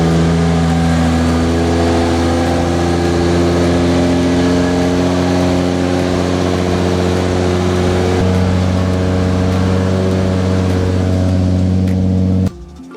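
A Nissan R33 with a stainless exhaust idles steadily and close by, a deep droning hum with a slightly raised idle that runs unbroken before cutting off abruptly near the end.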